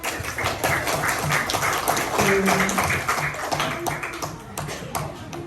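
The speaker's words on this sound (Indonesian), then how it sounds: "Beri tepuk tangan dulu untuk temannya." Classroom applause for a classmate: a scattered, uneven patter of children's hand claps and taps, moderately loud and continuous, with a few light thuds mixed in and some faint voices underneath.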